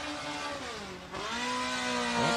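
A 4-cylinder race car at a speedway revving hard at full throttle, a loud close engine whine that drops briefly on a shift, then climbs again and surges near the end.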